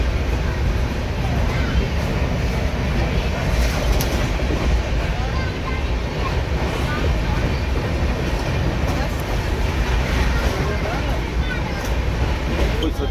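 A packed passenger train on the Delhi to Mumbai run rumbles steadily, with a constant dense roar and rattle of the carriages heard from inside the coach, voices murmuring faintly beneath.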